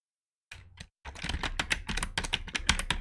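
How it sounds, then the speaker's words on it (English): Rapid clattering keystrokes on a computer keyboard as a password is typed, a short burst, a brief pause, then a dense run of close, crisp clicks. "If I can type my password right."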